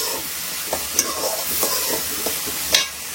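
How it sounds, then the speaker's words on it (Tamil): Tomatoes and onions sauté in a pan for a Tamil home-style crab fry, a steady sizzle broken by a few sharp stirring scrapes at an even, close distance. "நம்ம 2 தக்காளி வெங்காயம் நல்லா வதங்கணும்."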